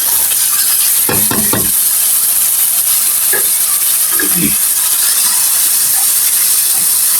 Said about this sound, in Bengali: এখন আমি দিয়ে দেব কেটে রাখা সবজিগুলি